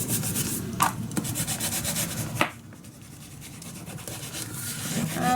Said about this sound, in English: And burnish it down.